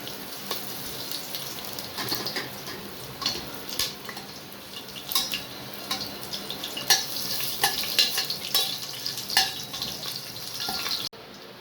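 Whole spices (star anise, four cardamom pods, five cloves, cinnamon, black stone flower and fennel) fry in hot oil for kuska biryani. The result is a continuous close crackling sizzle with small pops, steady throughout, without speech.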